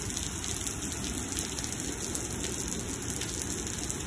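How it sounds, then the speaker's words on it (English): Heavy thunderstorm rain in Lubbock, Texas, a steady dense hiss of drops hitting surfaces, loud and constant throughout with no break. "it'll be raining like this, I think, until 11 o'clock"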